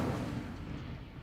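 An Incendio fire spell cast in Hogwarts Legacy, a short low whooshing burst of flame that rumbles heavily at first and fades over about a second.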